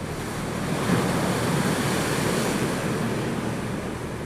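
Rough sea surf pounds the eroding coastline of a black-sand mining shore in Kerala, a steady loud roar of breaking waves mixed with gusting wind noise and no speech.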